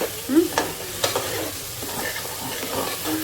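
Masala frying in a pan with a gentle, continuous sizzle broken by a few clinks and scrapes of stirring, close and moderately loud, no speech.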